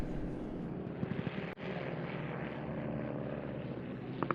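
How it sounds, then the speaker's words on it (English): WWI SE5 and Fokker DR1 biplanes flying at an airshow, a continuous loud propeller engine drone overhead, steady and close without pause. "the SE5 itself has now come under attack with a Fokker DR1 hounding it through the"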